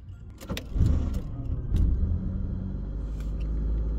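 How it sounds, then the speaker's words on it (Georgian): An old budget car engine cranking and catching, a few clicks and rattles, then a low rumbling idle that settles into a steady hum, heard from close by without talk. "აი, აბა, დაიქოქა ძმაო."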